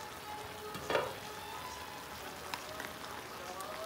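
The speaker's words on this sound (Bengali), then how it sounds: "সবজিটা একটু নেড়ে দিচ্ছি" Mixed vegetables for a dhaba-style dish stirred in a frying pan: a soft, steady sizzle with one scraping stir and a few light clicks from a spoon, fairly quiet.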